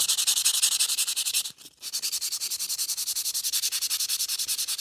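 Hand sanding of a rusted axe head with 400 grit sandpaper, a steady run of quick rasping back-and-forth strokes, close and fairly loud, with one brief pause partway through.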